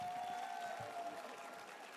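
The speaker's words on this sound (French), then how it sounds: "On peut les applaudir bien fort encore une fois, s'il vous plaît." An audience at a gala show applauds, a soft, diffuse patter of many hands heard from a distance and fairly quiet, with a thin steady tone lingering over the first part.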